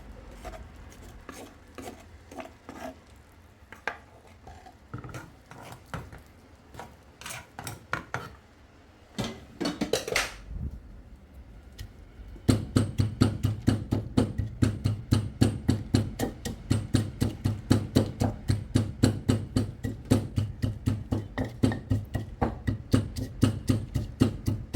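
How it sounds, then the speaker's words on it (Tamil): Maldive fish and sambal are pounded in a mortar, with a steady rhythm of loud, regular thuds after earlier scattered scraping and knocking. "மாசியும் போட்டு சேர்த்து இடிச்சுக்கிடுவோம்."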